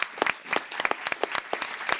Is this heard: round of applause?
yes